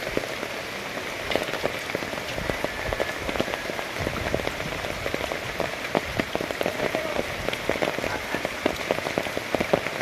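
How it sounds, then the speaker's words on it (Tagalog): Heavy rain from Typhoon Enteng pattering steadily on surfaces nearby, a dense continuous hiss with scattered sharper drop impacts throughout, no voices. "Yan, ulan."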